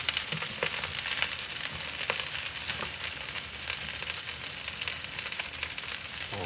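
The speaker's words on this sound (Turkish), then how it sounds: "Yağ ekleyeceğim." Food fries in freshly added oil in a pan while a predawn Ramadan meal is prepared, making a dense, continuous close sizzle with crackling pops and occasional stirring scrapes, no voices.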